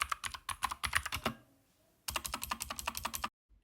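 Quick bursts of clicky keystrokes on a Keychron K2 mechanical keyboard, close and crisp, in two runs separated by a short pause, with no voices.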